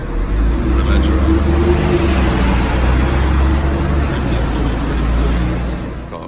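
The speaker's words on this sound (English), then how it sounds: "This is one of those double-decker buses." A London double-decker bus moves through street traffic, producing a loud, steady, low engine rumble close by with a continuous roadway hum that fades slightly at the end.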